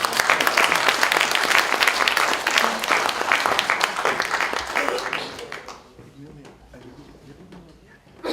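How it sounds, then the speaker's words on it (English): Loud, dense audience applause fills a comedy show for about six seconds, then fades quickly into a quieter murmur with scattered claps near the end. "Now we go and start with an applause to encourage our new,"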